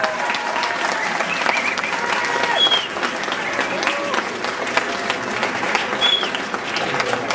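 An audience at a foundation-stone ceremony for a vocal and stage arts centre in Aulnay-sous-Bois applauds its director and founder, steady sustained clapping with a few faint voices and sharp accents mixed in.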